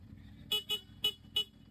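Stock horn on a CF Moto 450 motorcycle tooting in four short, sharp bursts close by, a quick double blip then two more spaced honks.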